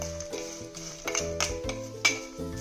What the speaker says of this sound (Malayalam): നമുക്ക് ഇതെല്ലാം കൂടെ ഒന്ന് മിക്സ് ചെയ്ത് കൊടുക്കാം